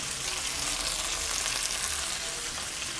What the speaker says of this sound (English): So what we want to do is just to sweat the mushrooms a little bit